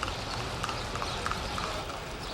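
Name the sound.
horse hooves clip-clopping pulling a cart in Cuba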